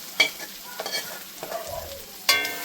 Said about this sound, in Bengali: এবার আলু, তেল, পেঁয়াজ পুরোটাই আমি এর মধ্যে ঢেলে দেবো, মশলার সঙ্গে ভেজে নেব।